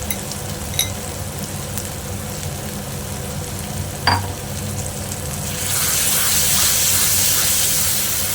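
Eggplant mashed with egg is stirred into half-cooked spices in a pan, giving a steady sizzle with a few clinks and scrapes, and the frying hiss swells louder toward the end.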